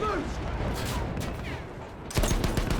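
Battlefield 1 gunfire crackles in rapid bursts through a noisy battle mix, with a louder cluster of sharp shots near the end.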